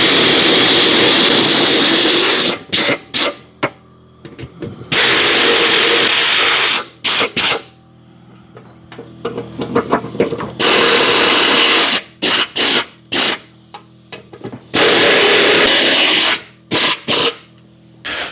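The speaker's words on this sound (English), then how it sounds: "a good 1/2 inch drive impact, a big one, you're going to go ahead and put this pulley on" Big half-inch drive impact wrench fitting a pulley onto a Husqvarna zero turn mower deck spindle, loud bursts of hammering rattle in repeated runs, separated by short sharp clicks and quieter handling gaps.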